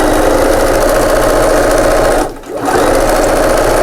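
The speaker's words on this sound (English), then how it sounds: "if you've got an overlocker or a serger, get it out of the box because this is ideal" A serger overlocker stitches a cushion seam with a steady, close, fast mechanical whirr that dips briefly near the end before running on again.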